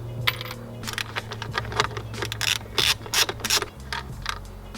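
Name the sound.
ratchet with 10mm socket removing cover bolt on Subaru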